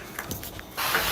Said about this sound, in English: and you spray the thing down.